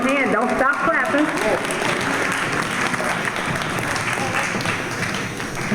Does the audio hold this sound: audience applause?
yes